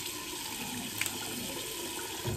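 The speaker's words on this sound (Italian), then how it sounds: "adesso un po' d'acqua aggiungiamo" Water runs and splashes steadily onto a shaving brush, like a tap pouring, with a soft higher trickle partway through; no voices.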